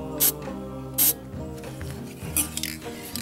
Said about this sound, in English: So I'm gonna spray it a second time.